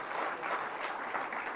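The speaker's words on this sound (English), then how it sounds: "And I think give them a clap." Conference audience in a plenary session applauding the organizers, a dense, steady wash of many hands clapping at moderate loudness throughout, with no voices over it.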